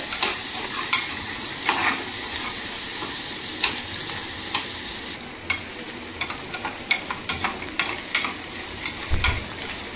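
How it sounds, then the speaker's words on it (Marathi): Onions stirred in a hot pan until reddish, a soft steady sizzle broken by repeated scraping and clinking of the spoon against the pan, close up with no voices. "कांदो लालसर होईपर्यंत आता हे फिरवत राहू"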